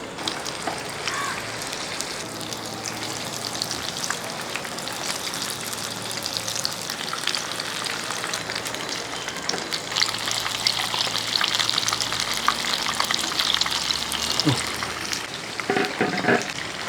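Chicken pieces frying in hot oil for a restaurant-style dish, a steady dense sizzle and crackle filling the whole stretch, close and loud with brief bursts of stirring near the end.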